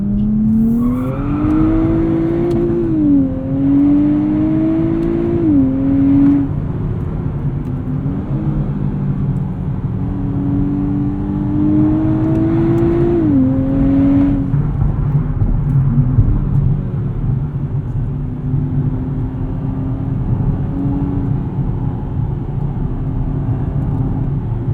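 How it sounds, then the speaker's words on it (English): A 2023 Nissan Z in automatic drives steadily with a continuous loud exhaust rumble, its pitch rising and dipping through a few throttle changes, no voices over it. "You can hear exhaust is a little bit louder. Sounds nice, a little bit more aggressive."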